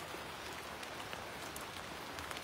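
Steady rainfall patters continuously, a dense soft hiss of drops on surfaces, fairly faint and uninterrupted, at a zipline near Mayon Volcano in the Philippines.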